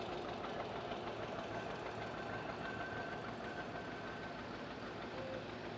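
A big John Deere tractor driven in a small-town watermelon festival parade, its engine idling with a steady low knocking chug, continuous and fairly distant, with no talk over it.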